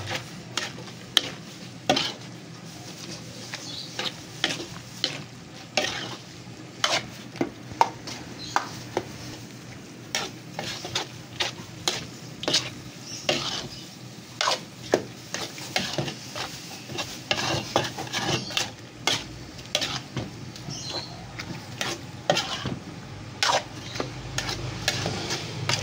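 Pork sisig with mayonnaise being stirred in a pan, a long run of frequent spatula scrapes and clanks against the metal over a soft frying sizzle, no talking.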